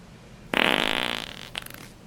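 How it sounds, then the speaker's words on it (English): A loud, close fart: one sustained buzzing blast lasting about a second that fades, then a short second puff, over a quiet room. "You just farted."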